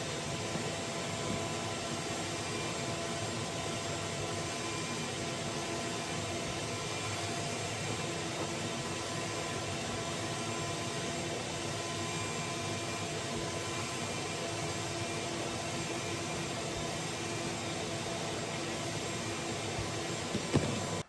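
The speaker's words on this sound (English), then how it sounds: "to minimize it, you want to vacuum it." A vacuum cleaner runs over a wood floor, giving a steady, loud, unbroken whooshing drone that holds an even level throughout with no pauses.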